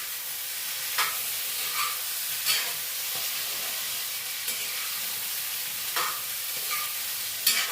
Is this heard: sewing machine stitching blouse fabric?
no